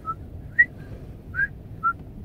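A person with Tourette's whistles as a vocal tic, a few short, thin whistle notes spaced unevenly over quiet background noise.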